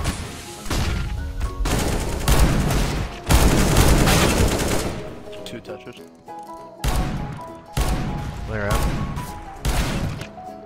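R8 revolver fire in CS:GO, dense overlapping game gunshots and impacts in loud bursts that keep going through several fights. Players talk over the shooting.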